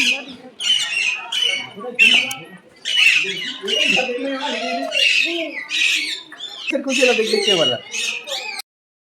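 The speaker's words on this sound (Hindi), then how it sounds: "तोता के भी अनेक अनेक प्रकार के है यहाँ" Parrots of several kinds squawk in an aviary at Maitri Garden zoo in Chhattisgarh, a string of harsh, close, repeated calls with people talking underneath.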